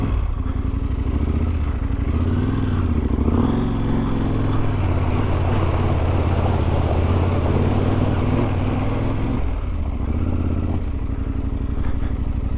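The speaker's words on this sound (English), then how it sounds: "All right, we got a little water crossing action going on here." Adventure motorcycle engine revving and churning near Hagerman Pass in Colorado, loud and close, with the note rising and falling steadily, splashing clatter and water noise as the bike pushes through a stream crossing.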